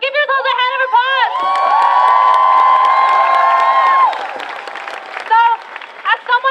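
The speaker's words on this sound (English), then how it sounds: "So give yourselves a hand of applause." A crowd at a 2017 DACA march in the street claps and cheers. Loud whoops and shouts rise over the applause, and one sustained yell rings out above the din before the noise breaks into scattered cheers.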